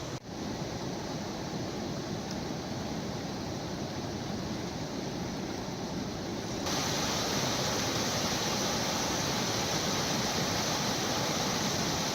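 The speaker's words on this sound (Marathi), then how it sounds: "डांग जिल्ह्यामध्ये पावसामुळे आता अंबिका नदीला पूर आलेला आहे पुराचा पाण्यात टेम्पो वाहून गेलेला आहे" Flooded Ambika river rushing during heavy monsoon rain in Dang district, a dense, continuous roar of water that grows slightly louder partway through, with no speech.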